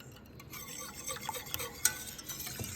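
Sugar-free syrup stirred in a pot to dissolve, with soft swishing and scraping strokes, occasional light taps of the utensil against the pan, faint and close, with no talking.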